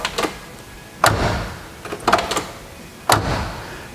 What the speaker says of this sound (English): why do you keep closing and opening the doors?